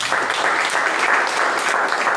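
A church congregation at a missions service applauds steadily, with dense and even clapping that fills the room at a constant loudness.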